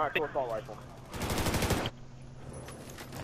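Rapid G36C rifle fire in Battlefield 4, a dense burst of automatic shots lasting under a second, with game ambience and a brief voice beforehand.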